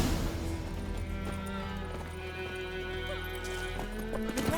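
A horse gallops in The Witcher 3, its hoofbeats clip-clopping in a steady rhythm over game ambience, with a neigh or whinny mixed in.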